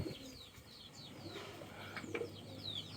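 Deshi pigeons cooing on a rainy rooftop, soft and somewhat distant, with faint bird calls over a steady hiss of rain.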